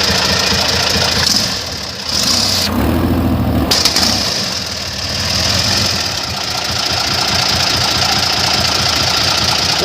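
An airboat engine idles steadily just after start-up with a loud, rough, knocking mechanical drone, close and continuous with no talking.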